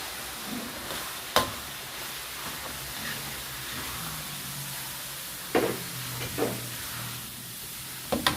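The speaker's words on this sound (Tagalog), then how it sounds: "Now I'm going to mix in the shredded coconut." Shredded coconut being tossed into a vegetable salad with tamarind water, a soft steady scraping and stirring with a few sharp clinks of utensil against the bowl, close and quiet, no one speaking.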